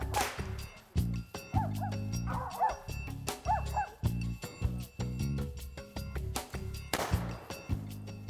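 Squirrel-hunting dogs bark and yip in a rapid, continuous run of loud, close barks, with occasional whimpers and overlapping calls from more than one dog, outdoors in Mississippi woods.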